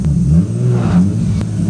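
Big-turbo Nissan Skyline R33 engine revs hard, a loud, close, rising growl with a brief surge near the middle, heard alone over a short burst.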